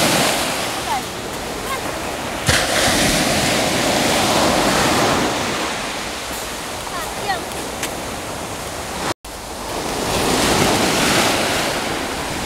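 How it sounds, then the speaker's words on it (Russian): Mediterranean sea waves wash steadily onto a beach, a loud, continuous surf roar with wind buffeting the microphone and a brief dropout near the end. "теперь море, только море"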